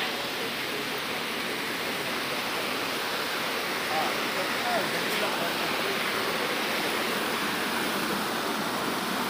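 A shallow, low-running river rushes below a footbridge near Ghangaria on the Hemkund Sahib route, a steady broadband roar of flowing water that holds constant and close throughout, with no voices.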